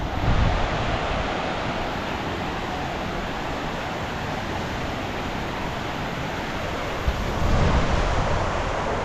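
Steady rushing stream water flows without pause near Mana Village in the Himalayas, a broad, loud wash of sound close by, with no voices.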